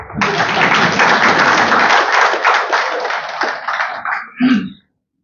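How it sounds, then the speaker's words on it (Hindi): An audience claps for two people at a talk on minorities in India, a dense, steady burst of applause lasting several seconds before it fades, with a brief voice near the end. "तो अनंत जी और नीरजा के लिए ताली बजाइए"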